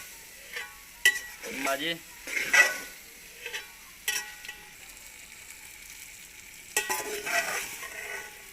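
Fried okra being stirred into masala in a pan, village-style cooking, with a run of scraping stirs and a soft sizzle underneath, loudest in bursts, alongside a brief spoken word.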